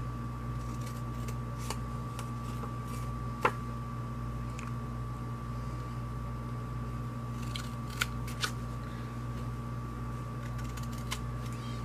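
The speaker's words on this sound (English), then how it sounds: "where's my scissors? I'm just going to cut these out" Scissors cut out paper tabs for a craft caddy, making a few scattered, faint snips over a steady low background hum.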